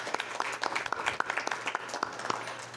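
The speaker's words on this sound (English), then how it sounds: "How about a round of applause?" Applause from a small audience at a public forum on Ohio's Issue 1 bail reform ballot measure, scattered, uneven clapping filling a few seconds at moderate distance.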